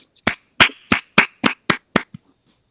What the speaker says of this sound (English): clap it up for our seniors